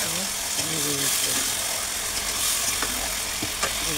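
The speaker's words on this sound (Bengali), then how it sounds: "মাংসটা যখন শুরু করেছে তখন মাংসটা নেড়ে দিচ্ছে" Chicken pieces sizzling in a pot for biryani while being turned, a broad steady hiss with occasional scrapes and clicks, and a voice talking over part of it.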